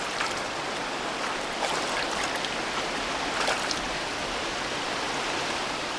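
A shallow mountain valley stream with little water flowing, giving a steady, even rush of broadband water noise throughout, with faint splashy detail and no voices.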